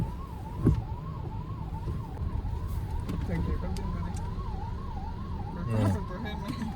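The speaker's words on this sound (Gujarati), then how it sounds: "એમ્બ્યુલન્સ ને જવા માટે કઈ રસ્તો નથી એવડો ટ્રાફિક છે" An ambulance's wailing siren rises and falls steadily at a moderate distance as it sits stuck in heavy traffic, with occasional horn honks and engine rumble nearby.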